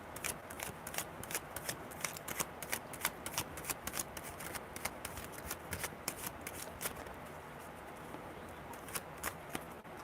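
Tarot cards riffle and flick steadily as a deck is shuffled by hand for a reading, a dense run of quick papery snaps, close and fairly quiet, with no voices.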